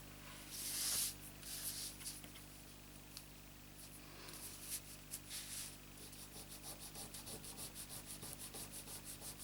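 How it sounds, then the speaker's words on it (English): A fingertip rubs leftover Fast Fuse adhesive off a handmade fireplace box card, giving a faint, close papery scrubbing that repeats in quick rhythmic strokes toward the end. "if you rub it, it just rolls up as a ball, and it's so easy to get off"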